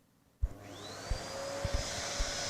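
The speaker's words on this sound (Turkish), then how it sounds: "Ya şimdi de süpürge sesi başladı." A vacuum cleaner switches on abruptly and whines up to a steady high-pitched roar, with a few soft thumps underneath.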